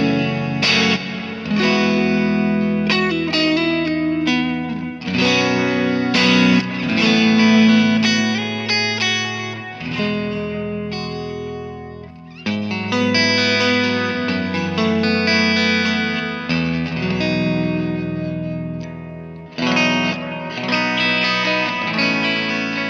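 An electric guitar runs through a Kemper profile of a 15-watt Bad Cat BC15 amp with reverb and delay. Strummed chords and picked phrases ring out with echoing tails in bursts and pauses, with no talking.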